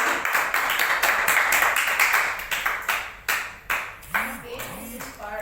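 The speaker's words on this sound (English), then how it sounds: "We give a clap to" An audience claps for Nancy at a customer-experience celebration, with bursts of separate claps, a few pinging tones near the end, and voices talking over them throughout.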